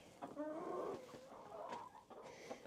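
Chickens cluck and murmur inside a coop on a snowy day, several close, quiet calls in an irregular rhythm, with no talking.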